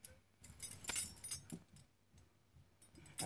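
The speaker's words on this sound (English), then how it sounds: "it has stainless steel beads. Has a nice rattly sound." A stainless steel bead clapper bird toy shakes in bursts of bright metallic jangling and clinking, close up, with quiet gaps between rattles.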